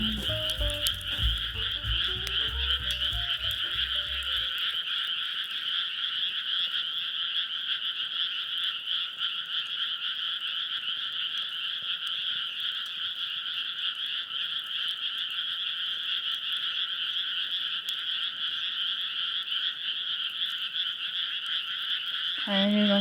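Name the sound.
frogs croaking at a campsite at night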